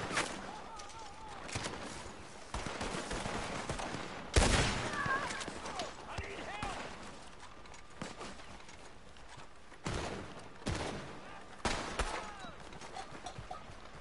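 Gunfire at a camp in Red Dead Online: scattered shots and short volleys burst out over quieter stretches, one sharp loud crack standing out, with fainter distant shooting and brief background talk.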